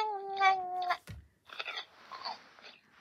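A Ropet AI robot pet eats an apple, giving a short synthetic meow followed by close, crunchy chewing bursts with brief pauses between them.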